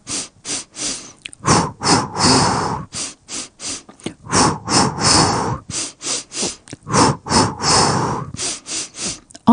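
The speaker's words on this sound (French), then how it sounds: "Expirez sur 3, inspirez sur 3, augmentez votre rythme cardiaque pour accélérer la marche" Rhythmic breathing during a guided walking workout, with steady paced inhales and exhales in groups of three, loud and close, repeating evenly throughout with no talking.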